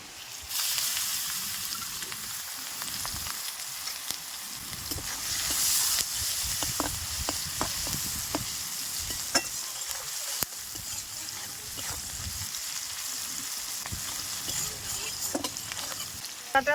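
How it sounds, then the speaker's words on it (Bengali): Chopped onion frying in hot oil with whole bay leaf and cumin seeds, a steady close sizzle and hiss broken by repeated stirring scrapes against the pan throughout. "তেলের উপর দিয়ে দিচ্ছি গোটা তেজপাতা, গোটা জিরে, তেলের উপরেই দিয়ে দিচ্ছি পেঁয়াজ কুচি"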